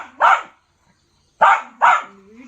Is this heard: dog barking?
yes